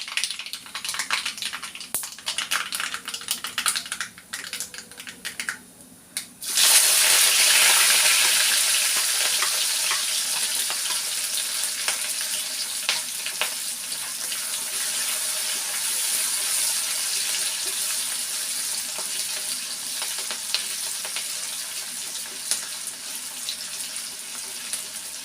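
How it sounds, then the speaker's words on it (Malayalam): Mustard seeds, ginger, green chillies, curry leaves and garlic hit hot oil with a sudden loud burst of sizzling and spluttering that settles into a steady, close fry with faint pops, following quieter handling sounds. "കടുകൊന്ന് പൊട്ടിക്കോട്ടെ."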